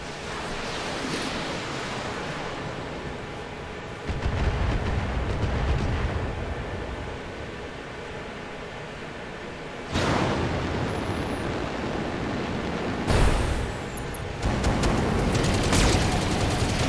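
Mech weapons fire an alpha strike in the video game Battletech, dense roaring volleys and missile blasts surging in several loud, noisy bursts with rumbling explosions between them.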